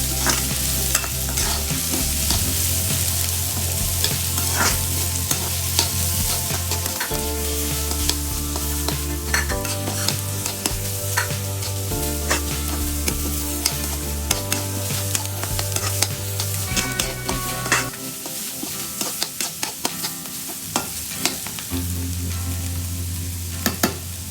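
Beetroot with grated coconut frying and being stirred in a pan, a steady sizzle with regular scraping strokes of the spoon running throughout, close and fairly loud, with no voices.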